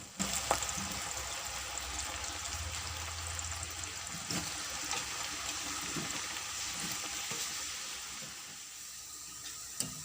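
Two large thin-sliced onions frying in heated oil for biryani give a steady, even sizzle with a hissing, watery crackle that holds for about ten seconds before easing slightly near the end, with no talking.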